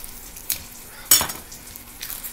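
Bacon frying in a pan during home cooking of a bacon cheeseburger pizza, a soft steady sizzle with a couple of brief louder crackling bursts, moderately near and alone without talk.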